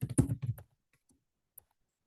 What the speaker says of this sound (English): I'm typing blindly.